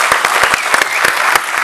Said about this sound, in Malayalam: ഒരു കയ്യടി പ്ലീസ്